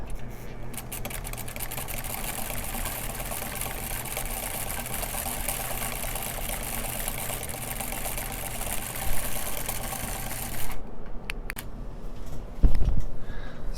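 A Singer 306 sewing machine runs steadily, stitching a short zigzag with a continuous whirring mechanical drone that stops near the end, leaving a few faint clicks and a low thump.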